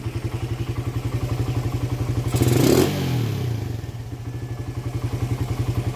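Motorcycle with a 28mm Keihin carburetor idling during tuning, a close, steady rhythmic putter with a brief louder burst and clatter midway before it settles back into the even idle.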